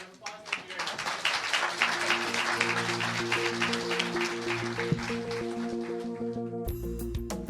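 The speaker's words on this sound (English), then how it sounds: "One more round of applause." Applause from a live audience at a bookstore author event, a dense burst of clapping over which someone speaks, with a musical sting of sustained tones rising underneath and carrying to the end.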